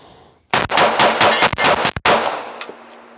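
Savage 1911 pistol fired as fast as possible in a mag dump at a 20-yard target, a rapid string of about seven or eight loud, sharp shots close together, then a brief ringing tail.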